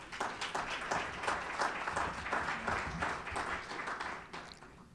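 A crowd applauds, dense rapid clapping that holds steady and then tapers off slightly at the end.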